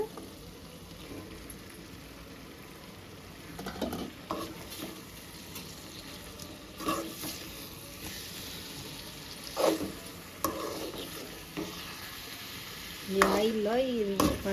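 A spoon stirs bitter gourd curry coated in masala in a pan, giving soft scraping and mixing strokes at irregular intervals over a faint background hiss, with a brief voice sound near the end.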